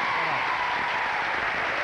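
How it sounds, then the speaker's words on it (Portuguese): Studio audience on a Brazilian TV game show clapping steadily, a dense, even wash of applause that holds at full level through the whole moment with no voices on top. "Essa, uma salva de palmas pra ela"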